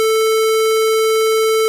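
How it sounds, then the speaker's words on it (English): A 40106 oscillator synth circuit produces a steady, buzzy square wave tone, loud and rich in harmonics, sustained evenly for the whole second and a half. "and a square wave would sound like this."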